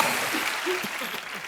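A studio audience at a comedy chat show claps in a brief, dense burst of applause that holds steady and then begins to thin out, with faint voices mixed in.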